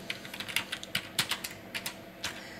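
Computer keyboard typing while entering a company name in Tally Prime accounting software. Quick, irregular clacking keystrokes sit close and clear over a quiet background, with no talk.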